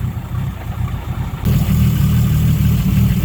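A tuned Nissan RB30ET turbo engine in an R31 Skyline, with a Crow cam and rebuilt lifters, idles nearby. The idle is loud, low and lumpy, and partway through it steps up into a fuller, steadier drone.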